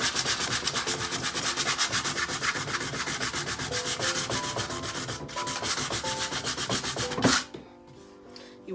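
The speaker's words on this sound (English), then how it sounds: "I've got a 120 medium grit sandpaper because it's a little bit rough and I want to get it back to being smooth." Wood is sanded by hand with 120 medium grit sandpaper on a vanity, a steady rapid back-and-forth rasping that continues loud and close, then stops abruptly near the end.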